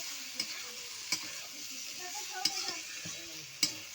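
Mixed vegetable curry of flat beans, eggplant and potato frying in a pan, a steady bright sizzle broken by several sharp scrapes and knocks of a spoon stirring, close and alone.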